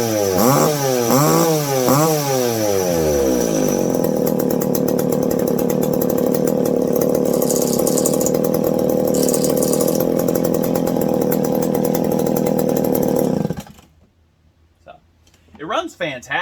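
A McCulloch PM650 chainsaw engine with a dull chain revs up a few times, then drones at a steady loud high idle for about ten seconds before cutting off, with a voice speaking over it.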